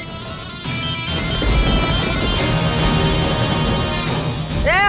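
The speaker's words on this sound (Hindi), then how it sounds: "बेगम किसका फोन है?" An electronic phone ringtone plays repeatedly with bright melodic tones, loud and close, over a busy background of clatter and noise.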